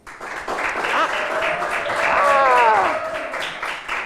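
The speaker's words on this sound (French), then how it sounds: "Si vous êtes d'accord, applaudissez." Audience of children and adults applauding during a holiday gathering: sustained, dense clapping that swells and fades, with cheering voices layered over it.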